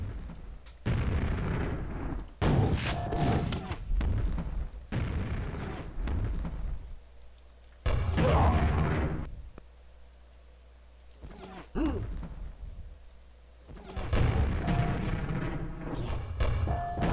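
Grenade blasts in a shooter video game, a string of heavy booming explosions in bursts with short gaps, loud and close, no talk over them.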